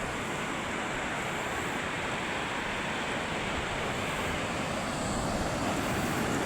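Strong waves crash continuously on a rocky beach, a loud, unbroken roar of surf with wind-like hiss, close and steady from start to finish with no voices.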